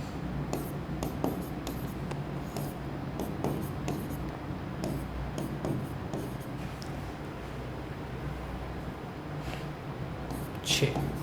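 Chemical formulas are written on a board during a chemistry lesson, with repeated tapping and scratching strokes heard close up beneath a voice talking.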